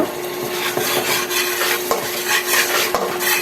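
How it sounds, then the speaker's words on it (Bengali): Spice paste with chili powder is stirred and fried in a pan while cooking a hilsa fish curry with green bananas, with a steady sizzle and repeated sharp scrapes and clinks of a spatula against the pan. "এবার ভালো করে কষিয়ে দিচ্ছি"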